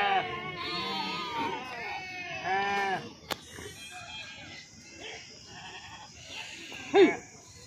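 Sheep bleating at a crowded livestock market in Telangana, several wavering cries near and loud over the first three seconds, a sharp knock, then murmuring crowd noise and one more loud bleat near the end.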